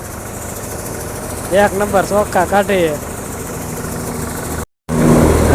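A tractor engine idles with an even, steady drone during nighttime wheat threshing, with someone speaking briefly over it and a short dropout near the end.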